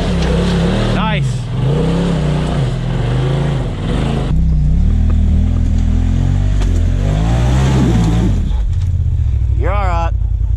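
An off-road vehicle engine crawling over rocks along a bank on a Black Mountain trail, a loud continuous low drone that rises and falls with throttle changes under a steady layer of nearby talk.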